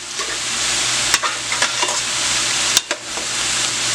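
Curry chicken with potatoes stirred in a pot, the gravy sizzling underneath while a spoon scrapes and clacks against the pot in several sharp strokes, close and without talking.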